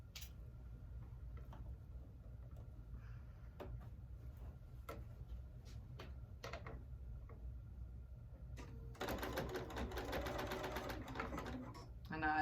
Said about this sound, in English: I am gonna put it under my machine